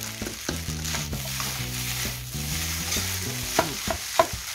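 Fried rice with Chinese sausage being stir-fried in a pan: continuous sizzling with rhythmic scraping and tossing of a spatula, ending in a couple of sharper clanks, close up and with no talking.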